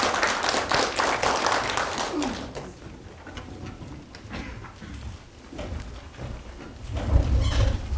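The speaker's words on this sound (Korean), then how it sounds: "큰 박수로 맞이해주시면 감사하겠습니다" An audience at an archaeology forum on Gaya history in Gimhae claps to welcome a speaker, with a dense burst of many hands that fades after a couple of seconds into quieter room murmur and faint scattered claps.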